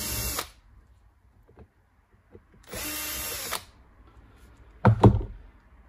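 A power screwdriver whirs in three short bursts, unscrewing the fan screws inside an Acer Nitro 5 AN515-51 laptop during a teardown, with quiet handling noises in between.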